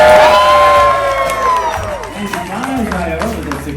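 A loud crowd cheers and whoops for Missy the dog's jump at a show at Holiday World in Santa Claus, Indiana, with an announcer's voice over the roar that eases slightly and then swells again.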